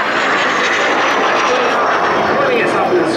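A Saab jet with a bypass turbofan passes along the display line at an air display over Jersey, a loud, steady, broad engine roar that holds close throughout, with a commentator talking over it.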